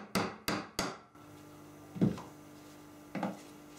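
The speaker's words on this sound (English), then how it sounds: "Now we had to remove the seal from the seal plate by turning it over, using a drift, just tap it out." Metal drift tapped with a hammer to knock an old shaft seal out of a swimming pool pump's seal plate: three quick close sharp taps, then two duller single knocks after a pause, over a faint hum.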